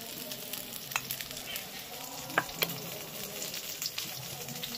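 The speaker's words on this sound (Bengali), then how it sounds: "প্রথমে আলুটাকে ভেজে নেবো, ডাঁটা ভাজতে হবে না, আলুটাকে একটু ভেজে নেবো।" Potato pieces fry in hot oil for a light fish curry with drumsticks, a soft continuous sizzle with a few sharp pops and crackles, fairly quiet throughout.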